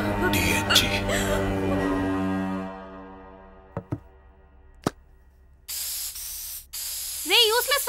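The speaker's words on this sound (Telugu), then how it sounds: "నా బాడీ స్ప్రే యూజ్ చేయదని ఎన్నిసార్లు చెప్పాను?" A short hiss of body spray, heard after people talk and a few knocks, sounding close and fairly loud, with a voice rising again at the end.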